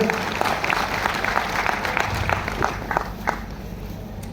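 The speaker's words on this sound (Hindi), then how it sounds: "एक बार जोरदार तालियों से उनका स्वागत करिए" Crowd applause at a civic gathering welcoming a Rajya Sabha member, thick continuous clapping with scattered sharper claps standing out, steady in level and fairly close.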